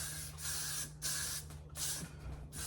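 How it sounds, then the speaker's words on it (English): Hairspray from an aerosol can misted onto hair for a ponytail style, several short hissing bursts in quick succession with brief pauses, close and fairly quiet. "We're gonna hairspray it."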